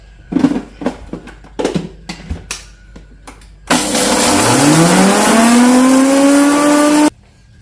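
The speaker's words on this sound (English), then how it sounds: "Transfer it into a mixer grinder. Red chilies first." A kitchen mixer grinder is loaded with red chilies through several clacks and knocks. Its motor then starts with a rising whine and grinds loudly and continuously for about three seconds before cutting off abruptly.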